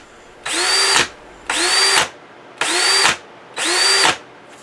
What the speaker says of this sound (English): After all that banging, the drill still works and the chuck is holding the bit